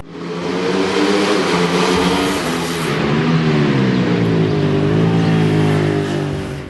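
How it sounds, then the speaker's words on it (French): Ducati 1199 Panigale twin-cylinder motorcycle engine running loud and close, a sustained droning growl that rises and falls slightly in pitch as it revs, no talking. "Au démarrage, le moteur dévoile une belle sonorité."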